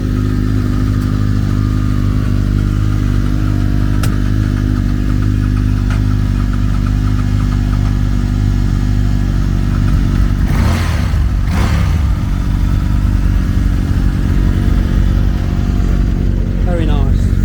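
A Ducati 916 motorcycle engine at an outdoor bike night, loud and continuous as it idles and revs in sharp bursts, with crowd voices and other bikes in the background.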